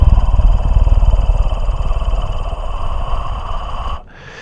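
A person makes a low, continuous throaty hum by mouth, close and steady, imitating a purr-like drone, then cuts it off abruptly near the end.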